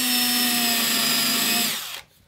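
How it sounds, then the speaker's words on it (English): A power drill bores pilot holes for 3/4-inch number 6 screws in the clamped wooden frames of a Bouchie Dory boat, a close, steady whine with a high tonal drone that cuts off after about two seconds. "I'm just going to drill for some 3/4 number 6 screws."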